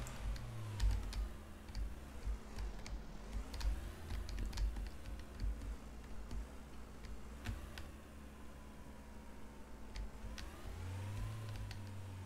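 Rapid keyboard typing and mouse clicks sound nearby and fairly quiet, with continuous tapping throughout, under a low steady drone of a truck-driving game engine that rises and falls in pitch.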